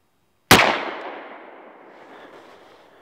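A single sharp gunshot from a Ruger SP101 revolver in .357 Magnum cracks out of silence, loud and close, followed by a long fading echo.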